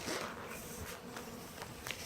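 Honeybees at a hive being fed through a reduced entrance hum in a close, steady buzzing drone, with individual bees swelling briefly louder as they fly past.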